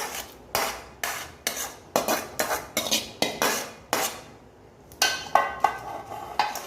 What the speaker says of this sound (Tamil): இப்போ எண்ணெயை நம்ம இப்போ மிக்ஸ் பண்ணிக்கலாங்க